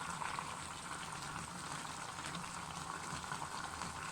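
Rice pilaf simmers in a pot on low heat with a constant dense bubbling and sizzling hiss. The sound is close, steady and even throughout, and no voices are heard.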